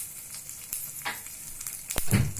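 Mustard seeds, urad and chana dal, asafoetida and chili crackle in hot oil for a tempering, a close sizzling hiss with a few sharp spits and bursts of popping toward the end.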